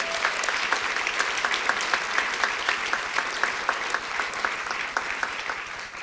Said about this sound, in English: I think we should give Carrie Hessler Radelet and Ambassador Kennedy another round of applause